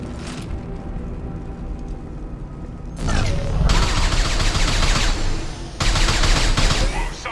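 Sustained automatic gunfire from a firefight in the video game Mass Effect 2, with mercenaries shooting. Dense, loud bursts of rapid shots start after a quieter stretch, pause briefly, then resume with mechanical clatter.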